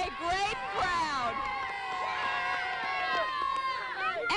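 A large Mardi Gras crowd in Thibodeaux cheers and shouts, a dense, lively wall of overlapping voices and whoops held at steady loudness throughout.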